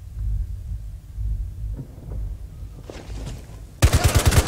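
A quick, loud burst of close gunfire in Rainbow Six Siege bursts out near the end, sharp rhythmic shots following a low rumbling stretch with a few faint clicks.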